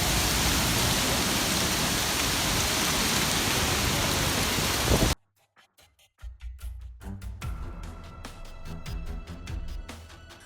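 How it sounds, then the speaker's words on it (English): A storm in London: dense, roaring sideways rain pours heavily for several seconds, then cuts abruptly to a brief quiet before sharper spattering and gusty, howling wind noise return. "A brutal storm swept through London with sideways rain and howling winds"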